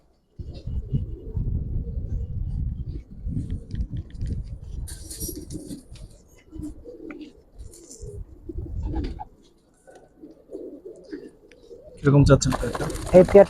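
Giribaz pigeons, a breeding pair, coo in low, throaty rolls that run almost nonstop close by, with someone talking over them and a rustling flutter near the end.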